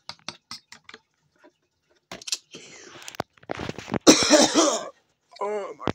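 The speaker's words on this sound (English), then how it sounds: "Why is Dad coughing?" A man coughs harshly several times in a row, loud and close, after a few faint clicks and some brief speech.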